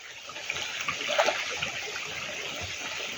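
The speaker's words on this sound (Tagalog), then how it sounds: "Kumukulo-kulo siya." Hot spring water bubbling and churning in a steady, rushing wash, with a brief louder gurgle partway through.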